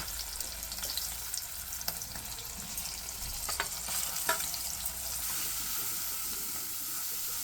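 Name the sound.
stirring frying turmeric chilli paste in a pot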